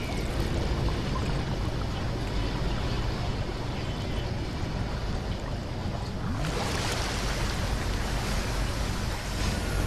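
Water flushing in the sci-fi horror video game SOMA, a steady, loud rushing wash that swells noticeably partway through and keeps pouring with no talk over it.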